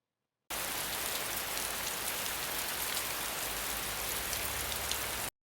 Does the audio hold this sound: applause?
no